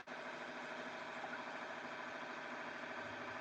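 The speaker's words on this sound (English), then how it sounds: "Maybe it's just the engine, it's too loud." A commercial fishing boat's engine idles in a steady, unbroken drone, loud and close with an even rumble and no other sounds over it.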